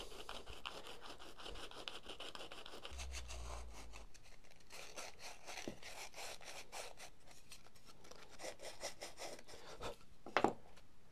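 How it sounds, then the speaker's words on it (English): Folded P80 grit sandpaper rubs in quick, repeated rasping strokes while sanding a simple egg tray, quiet and close, with a few louder scrapes near the end and no talking. "I'm starting off with some P80 grit sandpaper. I'm just going to fold it up"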